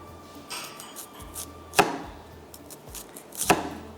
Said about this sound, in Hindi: तो कटिंग करते हैं यहाँ पर लेमन को और इसके साथ बाकी चीज़ों को